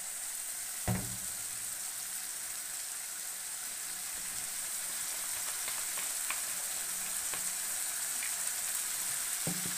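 Crab masala for a crab kosha curry sizzles and fries steadily in a pan after a splash of water goes in, a continuous bright hiss with a few scattered pops and stirring clicks.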